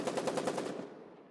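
A machine gun fires a rapid burst in the war video game Foxhole, about seven evenly spaced loud shots that stop abruptly and ring out briefly.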